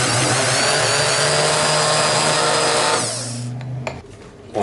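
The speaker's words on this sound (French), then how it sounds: "Et ensuite on va le mixer pour obtenir une préparation assez lisse" A blender whirs loudly and steadily, blending lobster coral with water into a smooth purée, then spins down after about three seconds, followed by a few quiet clicks and knocks.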